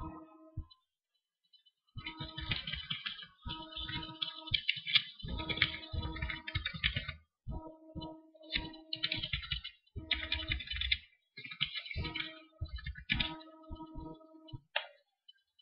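Computer keys click and clatter in bursts of typing and mouse clicks during a sign-in, crisp and close, with short pauses between the runs.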